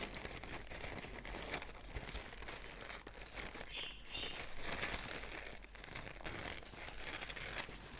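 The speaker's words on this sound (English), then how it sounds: "And then I'm going to just rip that." Paper being torn and crinkled by hand for a napkin journal page, a soft continuous rustling and ripping close by, quiet and with no speech.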